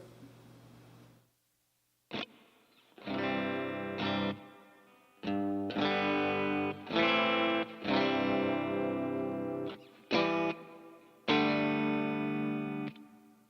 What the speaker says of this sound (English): Here's a smaller reverb.